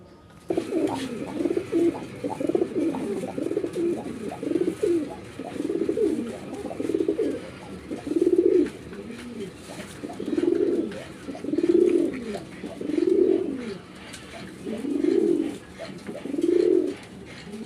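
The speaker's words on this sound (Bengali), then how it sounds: "আমরা এখানে এক জোড়া কবুতর দেখতে পাচ্ছি, আর এটা হচ্ছে যেমন তেমন কবুতর, এটা মাক্সি রেসার" A pair of Maxi Racer pigeons coo in repeated low, throaty phrases, steady rhythmic pulses recurring every second or so, close and moderately loud over faint background noise.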